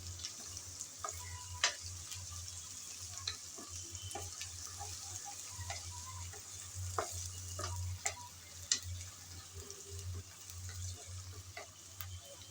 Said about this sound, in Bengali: আদা রসুন বাটা দিয়ে ভালোভাবে ভেজে নেব, যেন আদা রসুনের কাঁচা গন্ধ চলে যায়